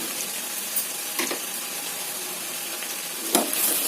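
Cut potato pieces hit a hot pan with a steady, close sizzle of frying, broken by a few brief clatters and stirs, with no one talking.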